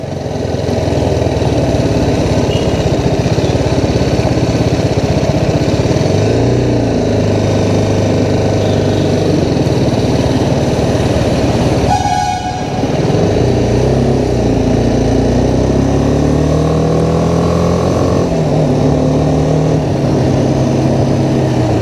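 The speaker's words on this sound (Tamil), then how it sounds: "ஏறக்குறைய ஒரு வருஷம் கழித்து நம்ம வந்து வண்டி ஓட்டிகிட்ருக்கோம்" A BMW G310R motorcycle engine runs steadily while riding on a highway near a toll plaza, a loud continuous drone with shifting pitch and constant wind rush, with a brief dip midway and no talking.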